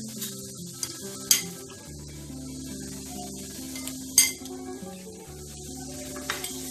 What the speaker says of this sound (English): Now we are giving the onions, which are thinly chopped.